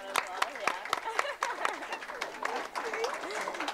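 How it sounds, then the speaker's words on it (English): Audience applause at a panel discussion, a steady patter of hand claps from a modest crowd, fairly close and continuous with some chatter. "let's give them a round of applause"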